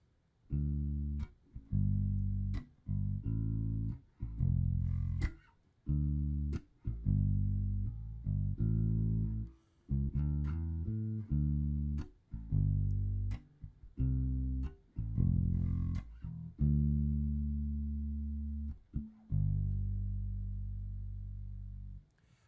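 A bass guitar plays a repeated low riff alone, plucked notes in short phrases with brief pauses, some held longer, steady and close.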